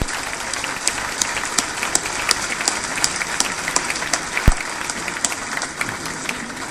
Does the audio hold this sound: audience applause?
yes